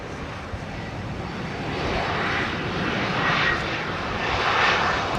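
Airliner arriving on runway 27R at London Heathrow, a steady broad jet roar that swells gradually and holds loud throughout, with distant whine tones and no talk.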